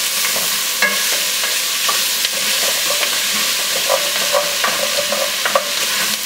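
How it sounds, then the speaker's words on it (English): Onions and celery sauté in a pot with a steady sizzle, and a spoon stirs and scrapes through them in soft, irregular bursts close by. "I love that smell of onions and celery sauteing"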